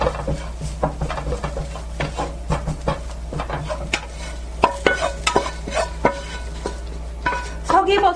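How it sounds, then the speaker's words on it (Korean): Stone ear mushrooms with salt and sesame oil are stir-fried over low heat in a pan, with repeated scraping and tapping strokes of a utensil over a faint sizzle, close and steady. "소금 참기름 양념이 스며들 정도로 살짝만 볶아주세요."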